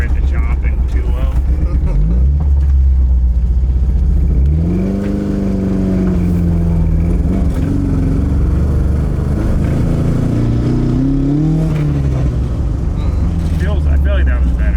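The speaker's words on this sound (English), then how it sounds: "I try to get it to idle really low so it chops" A Toyota AE86 engine in an old-school rebuild, tuned to idle very low and choppy, rises and sags in pitch through several blips, loud and close, while a person talks over it.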